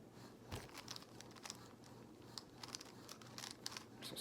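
Rubik's Cube layers spun quickly by hand during a speed solve, bursts of crisp plastic clicks and scraping turns up close, irregular and quiet, with no voices.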